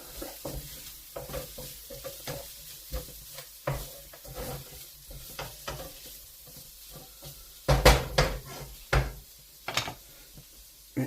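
Chili stirred into a sizzling beef and black bean stir-fry, soft frying hiss under a run of spatula knocks and scrapes that grow louder and busier toward the end.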